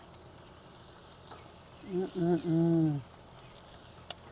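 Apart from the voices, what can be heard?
steaks and asparagus sizzling on a barbecue grill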